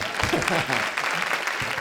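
Brief applause from an online education event audience, a dense clatter of clapping that runs throughout, with a voice speaking over part of it.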